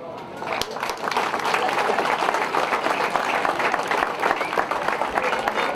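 Sustained applause from a crowd at a youth football tournament's fair-play award ceremony, steady dense clapping that fills the whole stretch at a fairly loud level, with some voices mixed in.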